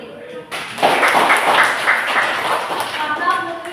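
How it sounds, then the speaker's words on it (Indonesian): A group of students claps in a classroom, a brief burst of applause for a classmate that starts abruptly and runs steadily for a few seconds at moderate loudness. "Oh iya, sebelumnya tepuk tangan dulu buat Putri."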